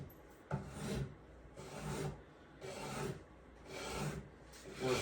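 Long rasping strokes of sanding or rubbing down a wooden gun forestock, four or five steady back-and-forth passes, close and continuous with brief pauses between strokes.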